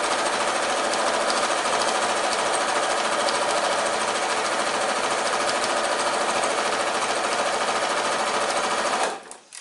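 A sewing machine stitches fabric over pins in a fast, continuous mechanical rattle, loud and close, running steadily for several seconds before stopping abruptly near the end.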